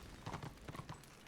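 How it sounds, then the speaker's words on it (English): In the video game Warhammer Online, a horse's hooves clop in two quick clusters of three or four footfalls, moderately close, with no voices over them. "Horsey!"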